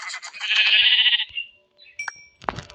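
Sheep bleating in the Minecraft video game: a sustained wavering bleat opens the sound, followed by a short game tone and another sharp bleat near the end, all fairly close with no talking.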